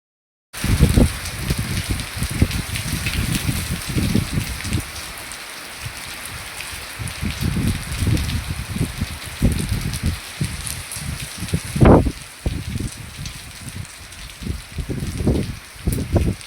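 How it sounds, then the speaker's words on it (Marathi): Rain falls steadily around a gallery, driven by wind, a continuous close patter with surging low gusts that swell and fade, and no one speaking. "तर असा पाऊस चालू होता"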